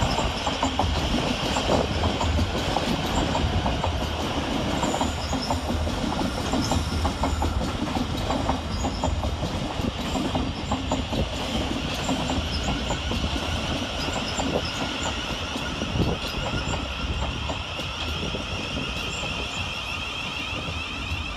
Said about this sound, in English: Next into the station is 700 122, working the 1053 Govia Thameslink service from Peterborough to Horsham.